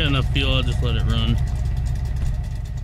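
An old truck engine idles with a steady low rumble, while someone talks close by at first and then leaves the engine running on its own.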